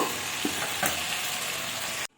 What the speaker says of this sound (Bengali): দেখতেই পাচ্ছেন আলুগুলো একদম পনিরের মতন ভেজে ফেলেছি